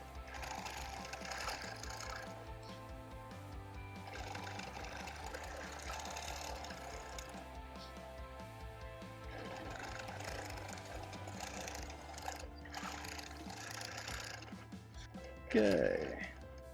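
A sewing machine stitches a guitar quilt, a steady fast mechanical whir and needle chatter running throughout at moderate level, with a brief louder clunk near the end as stitches are locked.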